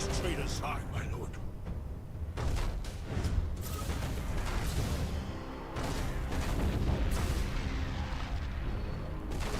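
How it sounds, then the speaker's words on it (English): Mines detonating in the space battle game Battlefleet Gothic Armada 2 rumble as a dense, loud, continuous barrage of deep booms and blasts, while voices talk over the din. "Tell them to detonate the mines. That explosion should clean our tails of these traitors."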